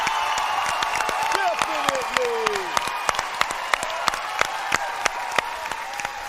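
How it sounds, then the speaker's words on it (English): Studio audience at the Nickelodeon Guts Extreme Arena applauds steadily, a broad wash of clapping with a few cheers, while a voice speaks briefly over it. "let's give everyone who helps a big Extreme Arena cheer"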